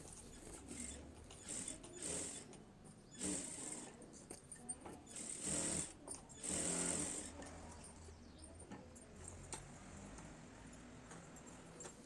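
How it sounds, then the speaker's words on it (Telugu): Sewing machine running in short bursts while joining a blouse lining with loose stitches around the edge, a faint, close mechanical whir that starts and stops irregularly with no talk. "తర్వాత చుట్టూ అయితే లూజ్ కుట్టు పెట్టేసి జాయింట్ చేసుకుంటున్నాను."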